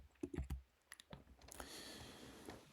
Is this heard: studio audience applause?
no